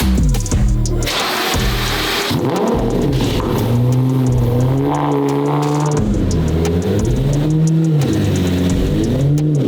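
A V12 supercar engine turns over from cold and fires up, then revs loudly in repeated rising and falling surges, close and strong throughout.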